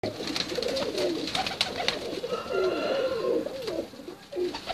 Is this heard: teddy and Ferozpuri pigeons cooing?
yes